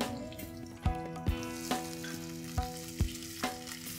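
Potatoes frying in hot ghee with cumin seeds and green chilies, a steady close sizzle with sharp stirring clacks at irregular intervals and no talking.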